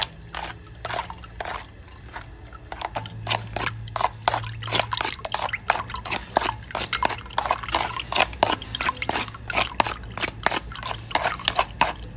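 Guava juice is strained away from the guava pulp, with wet dripping and trickling mixed with irregular clicks and knocks, close and fairly quiet, with no talking.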